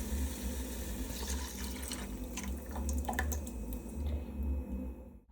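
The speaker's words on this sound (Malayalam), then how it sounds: "ഈ വഴണ്ട് വന്ന സവാളയിലേക്ക് നമ്മൾ നേരത്തെ തയ്യാറാക്കി വെച്ചേക്കുന്ന മസാല വെള്ളം ഒഴിക്കാം കേട്ടോ." Masala water poured onto sautéed onions in a pan for a quick curry, a steady close splashing and sizzling pour that continues evenly for several seconds before stopping abruptly.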